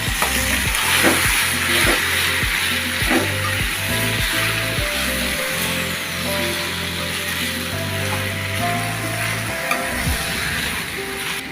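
Colocasia stems dropped into hot oil with garam masala powder, frying and being stirred in a pan, a steady close sizzle with repeated scraping strokes of a spoon throughout, over a low continuous hum.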